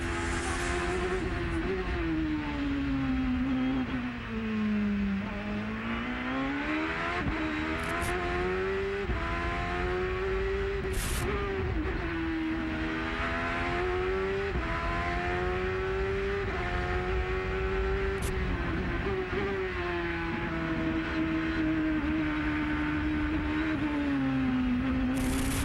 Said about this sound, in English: Let's go full throttle with the Forsyth number 1.